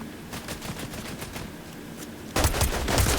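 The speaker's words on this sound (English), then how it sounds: "Stop shooting at me!" Rapid gunfire in a video game crackles in dense bursts, growing suddenly louder and closer for the final second.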